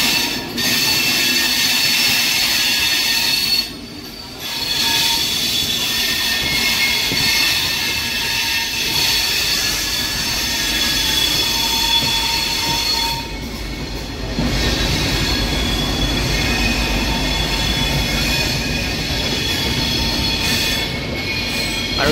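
The Lucknow–Chandigarh Prayagraj Sangam express pulls into an Indian railway station, loud rolling wheels and rumble with high steel-on-rail squeals and brief gaps in the din, close by and with no voices.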